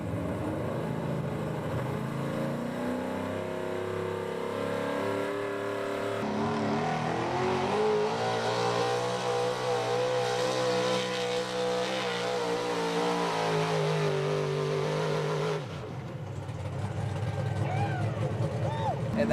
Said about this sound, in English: Got that truck going smooth down the track, straight like an arrow.